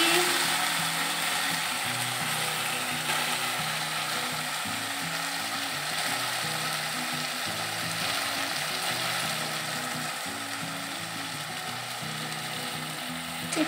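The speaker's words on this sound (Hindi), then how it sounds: "और मैं डाल दिया पूरा चिकन को, तो इसको मैं अब कुक करूँगी।" Whole chicken with masala for chicken kosha cooking in oil in a pan, a steady close sizzle and frying hiss with faint rhythmic clatter running throughout, no voices.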